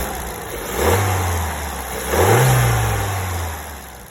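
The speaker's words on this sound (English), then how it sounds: "So here's a quick video on the stock intake sound" Stock intake of a Volkswagen Golf Mk7 TSI Bluemotion petrol engine revving twice, each rev swelling and falling back toward idle, heard fairly close with no talking.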